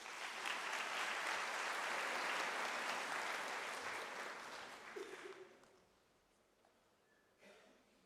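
Audience applause at a University of South Africa graduation ceremony, sustained dense clapping for about five seconds that fades out, followed by a brief quiet stretch and a faint voice.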